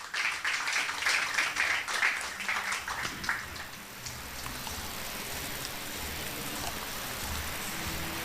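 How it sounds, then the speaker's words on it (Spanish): A congregation at a church service claps in a brief, lively burst that thins out after a few seconds into a faint, diffuse patter, with no voices. "Yo que tú le daba un aplauso al Señor"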